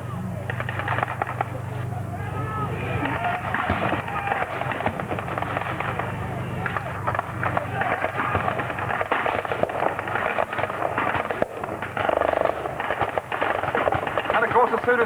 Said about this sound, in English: they straight away get into the fire of the German machine guns